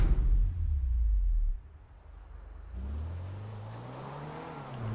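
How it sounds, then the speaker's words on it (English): A civilian car in a GTA roleplay game, driving through Paleto Bay: a steady engine drone that drops away, then a rising hum and whir as it picks up speed, close and alone with no talk. "I'm driving a civilian car in Paleto Bay"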